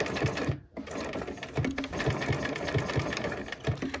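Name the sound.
sewing machine sewing a buttonhole stitch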